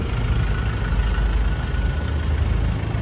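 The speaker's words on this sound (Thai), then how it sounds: "หน้าเครื่องนะคะเป็นเครื่องยนต์ดีเซล" The 2.2-litre diesel engine of a 2019 Mazda BT-50 Pro double-cab pickup idles steadily up close, a low rumbling chug that holds constant throughout with no voices.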